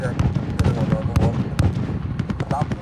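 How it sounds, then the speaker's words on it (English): Precision airstrike in the Call of Duty: Modern Warfare video game, heard as a rapid, irregular string of sharp explosive cracks and pops with a low rumble beneath, close and loud, mixed with faint background voices. "Be advised, friendly precision airstrike inbound"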